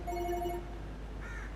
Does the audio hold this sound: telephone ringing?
yes